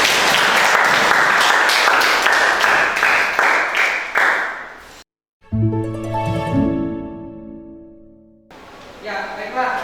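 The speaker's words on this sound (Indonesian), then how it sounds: "berikan tepuk tangan dulu" Classroom applause during a teaching-practice lesson: dense, loud clapping for about five seconds that cuts off abruptly, followed by a stretch of sustained tonal sound.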